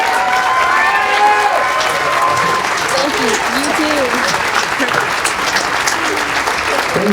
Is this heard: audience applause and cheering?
yes